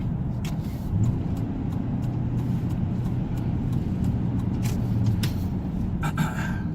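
Road traffic surrounds a car being driven in winter, a steady low engine and road hum with passing vehicles. Faint hiss and clicks come through, and a brighter burst sounds near the end.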